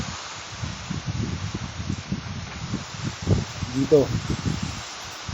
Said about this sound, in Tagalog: Malakas na yung hangin.